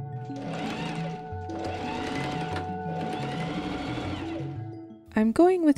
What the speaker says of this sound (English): I pin and machine sew my pocket pieces in.